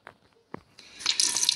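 Bath water running in the Roblox game Brookhaven, a couple of soft drip-like taps followed by a bright, hissing gush of water from a tap that rises and holds steady, with no talking.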